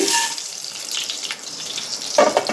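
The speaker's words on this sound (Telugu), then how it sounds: "ఇప్పుడు ప్యాన్లో వేసుకుందామండి అన్నీ కలిపి" Tempering of garlic, mustard seeds, dried red chillies and curry leaves frying in a pan with a little oil for cucumber chutney: a continuous close hissing sizzle with brief crackles and spikes, strongest near the end, with no speech.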